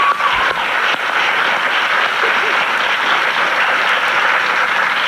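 A crowd applauds loudly and steadily throughout, a dense wash of clapping with faint voices mixed in.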